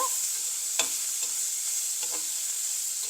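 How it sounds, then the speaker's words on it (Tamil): Onion with ginger garlic paste frying in oil, a soft continuous sizzle hiss with a few brief spoon scrapes against the pan, close and fairly quiet, no voices. "இப்போ இதை நல்லா வதங்க விட்றோம்"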